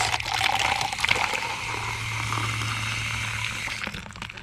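Water runs steadily into a container being filled for a dish soap spray mix, a continuous close pouring rush over a low hum that tapers off near the end.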